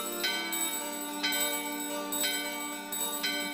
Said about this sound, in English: Bell in your hand and the bell in the door ringing.